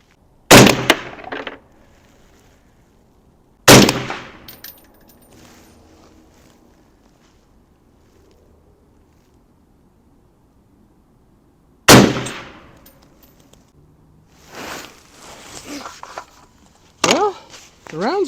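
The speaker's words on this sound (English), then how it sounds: "So let's shoot a few rounds downrange and see how it performs." Suppressed Ruger SFAR rifle fitted with a Huxwrx 7.62 suppressor firing 175 grain rounds outdoors: four sharp, spaced cracks with decaying tails and long quiet gaps, plus faint handling noise between shots.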